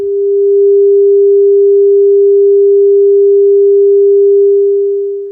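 A single pure, steady sine tone at 400 Hz holds loud and unchanging for about five seconds, then fades out.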